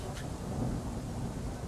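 Thunder rumbles under steady rain in the video game Forgive Me Father, a dense continuous wash of rainfall with low rolling thunder throughout, no talk.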